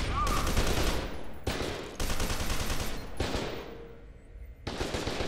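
Automatic gunfire rattles in sustained bursts during a firefight in the shooter game F.E.A.R. 2, loud and close, broken by brief pauses and sharp onsets, with no voice over it.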